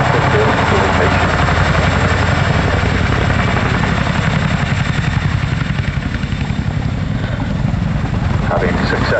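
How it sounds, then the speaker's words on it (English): A military helicopter hovers and manoeuvres with a gun slung beneath it, rotor thudding loud and steady from close by throughout, with a constant engine roar. "teams will manoeuvre the aircraft forward and down away from the load to allow the troops to disembark"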